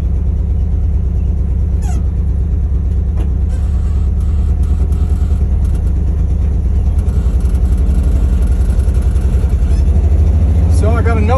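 A loud, lightweight car's engine runs steadily throughout, a dense low rumble close by and continuous, with no talking over it.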